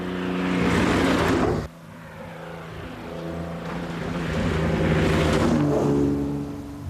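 An Aston Martin DB3 sports racing car passes with a loud engine roar and a sharp cut-off, then rises again into a sustained revving howl that swells and fades. No one speaks.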